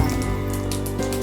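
Mustard seeds spluttering and popping in hot oil while tempering for a Kerala potato thoran, a steady close crackle of tiny pops over a low frying hiss, continuous and fairly loud.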